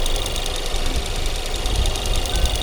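A Ford EcoBoost 2.0-litre four-cylinder in a 2019 Ford Escape running steadily close by, a dense ticking clatter over a low rumble with no voices.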